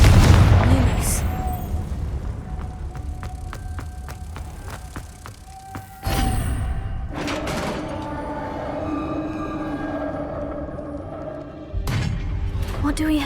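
Booming explosions from the Confringo blasting curse in the video game Hogwarts Legacy: two loud bursts a few seconds apart over game music, with voices talking throughout.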